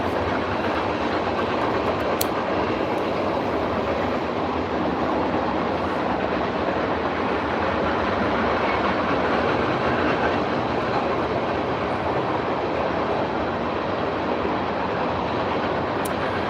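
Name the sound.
train passing, clickety-clack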